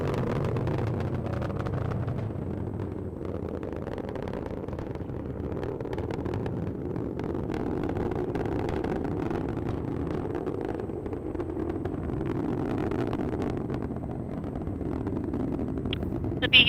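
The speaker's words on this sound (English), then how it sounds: "The BE4 is now throttling down in preparation for SRB burnout." Vulcan Centaur rocket with BE-4 engines and solid boosters during launch ascent, heard as a steady low rumbling roar from a distance for the whole stretch, with faint talk mixed in.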